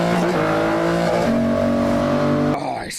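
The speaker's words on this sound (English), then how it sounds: "it's just the sound of the Aston Martin engine" Aston Martin engine revving in a film opening: a loud, sustained engine roar with a steady drone and pitch shifts that drops away sharply near the end.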